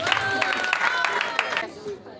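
Audience applause as a speaker is called on stage at a conference event: dense, steady clapping from a large crowd close by for about a second and a half, then fading out quickly.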